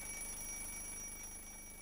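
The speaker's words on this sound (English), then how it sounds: "As we move around the clock, we can still hear the alarm." An alarm clock bell keeps ringing without a break, a dense rattling metallic jangle that stays fairly loud throughout.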